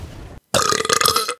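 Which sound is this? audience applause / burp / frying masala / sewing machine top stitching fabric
burp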